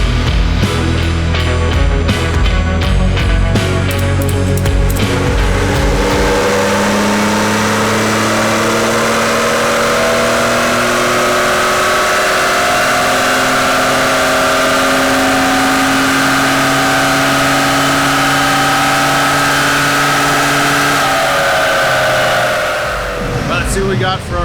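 A 2020 Ford Raptor fitted with larger Garrett turbos and an upgraded intercooler roars through a loud, sustained fifth-gear dyno pull. Engine pitch climbs steadily for about twenty seconds before the throttle lifts and the note drops away.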